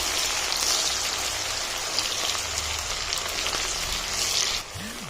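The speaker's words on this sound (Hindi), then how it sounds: "प्याज को हमने अच्छे से फ्राई करना है, चम्मच चलाते हुए, चम्मच को रोकना नहीं है।" Chopped onions fry in a pan for a restaurant-style chicken aloo curry while being stirred with a spoon, a steady, dense sizzle like rain that carries on continuously before easing near the end.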